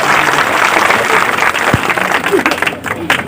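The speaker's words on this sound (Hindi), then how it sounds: "एक बार जोरदार ताली बजा के इनका स्वागत कर दो" An outdoor village audience in Haryana claps loudly to welcome a speaker at a political gathering, a dense roar of applause that runs throughout and thins slightly toward the end, with voices mixed in.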